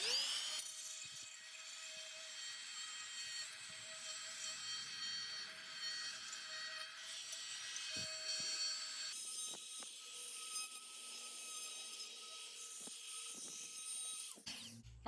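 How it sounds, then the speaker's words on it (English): Oscillating multi-tool cutting old caulk out of a concrete joint, a continuous high buzzing whine that is loud and close and shifts pitch partway through as the blade works. "I would use one of these oscillating tools"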